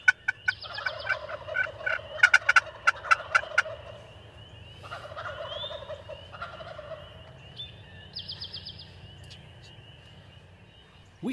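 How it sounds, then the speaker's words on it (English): Wild turkeys gobble around a hunting blind in the Michigan woods at dawn, several rattling gobbles bursting out in clusters from moderate distance, with quieter bird calls and chirps between them and no talk. "we were in the blind a few days ago with many birds gobbling."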